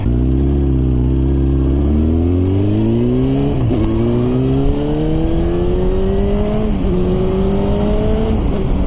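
A Honda 954RR motorcycle engine revs hard while riding, its pitch climbing steadily through several gear changes with brief dips between shifts. The sound is loud and continuous under constant wind roar, with no voices.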